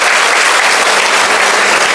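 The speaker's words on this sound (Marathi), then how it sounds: "त्या मायबापासाठी एकदा जोरदार टाळ्या होत्या" Loud, dense applause from an audience at a teachers' felicitation ceremony, steady clapping filling the whole stretch without a break.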